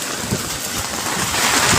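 Heavy rain falling nearby onto a pond and trees, a dense, even patter with no breaks across the short stretch.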